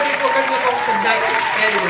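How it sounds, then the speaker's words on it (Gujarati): A room of students in a Gujarati school maths class claps together, a steady dense patter of many hands with voices calling out over it throughout. "આપણે બધા માટે સરસ મજાની તાળીઓ વગાડીએ"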